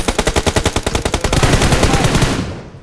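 Rapid automatic gunfire from PUBG Mobile, a run of evenly spaced loud bursts that blur into a dense rattle and then trail off.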